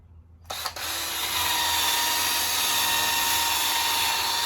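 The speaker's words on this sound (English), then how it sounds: "All right, here we go, wire wheel." A power tool fitted with a wire wheel grinds rust off a 1967 Mustang under restoration, spinning up after a brief knock and then holding a loud, steady, harsh whir close to the microphone with no talking.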